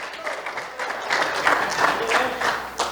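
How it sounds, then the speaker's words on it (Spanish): A church congregation claps together in a brief burst of applause, uneven and moderately close, with a voice speaking faintly underneath. "Demos una ofrenda de aplausos al Señor."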